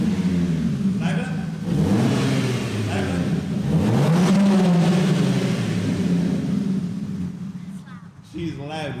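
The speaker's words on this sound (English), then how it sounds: "we'll get him to give it a little rev and see what it sounds like" A car fitted with a new loud exhaust revs close by, its engine note rising into a swelling rumble and falling back, with voices talking over parts of it.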